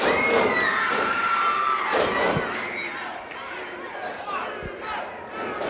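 Wrestling crowd at a Georgia arena shouts and yells warnings to a wrestler, a loud, continuous roar of many voices with a few sharp thuds from the ring.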